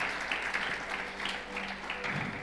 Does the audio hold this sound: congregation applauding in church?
yes